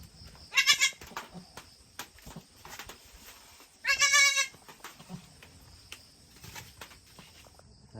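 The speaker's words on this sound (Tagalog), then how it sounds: "nandito yung ibang kambing namin" Goats bleat on a farm in the countryside, two loud, wavering calls a few seconds apart, with quieter rustling and a faint steady insect hum in between.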